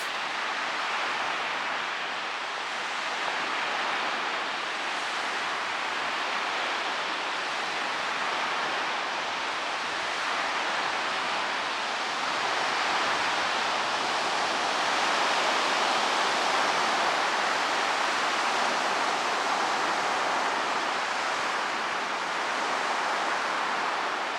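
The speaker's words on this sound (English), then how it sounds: "And here come the final waves from the wake that the boat created." Final waves from a boat's wake wash in as a continuous broad hiss of surf, steady and moderately loud for the whole span, with no voices.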